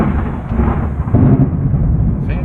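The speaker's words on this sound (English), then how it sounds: "I have a thunderstorm and I'm underneath the truck outside." Low rolling thunder from a thunderstorm outdoors, heard from beneath a truck, a loud continuous rumble sustained throughout with no break.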